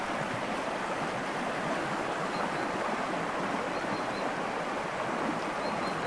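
Continuous rushing water of a stream swollen with runoff flowing steadily, with faint bird chirps high above the broad wash of noise.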